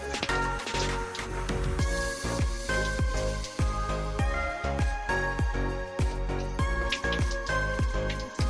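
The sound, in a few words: liquid being poured into an empty bottle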